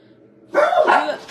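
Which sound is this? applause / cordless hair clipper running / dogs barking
dogs barking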